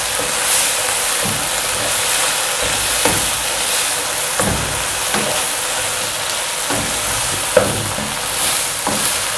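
Keema matar, spiced minced meat with peas, sizzles steadily in a hot pan while being stirred, a constant bright frying hiss broken by soft scraping strokes of the spoon at irregular intervals.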